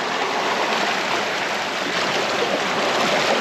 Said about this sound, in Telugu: నీటి ప్రవాహ వేగం చూడండి ఎలా ఉందో